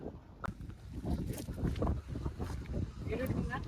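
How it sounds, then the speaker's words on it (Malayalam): Strong gusty wind buffets the microphone outdoors beside a railway track, roaring in loud uneven blasts with low rumbling thumps throughout the short stretch. "കാറ്റെന്നൊക്കെ പറഞ്ഞ പണ്ടാരം കാറ്റാ, ഭയങ്കര കാറ്റാ"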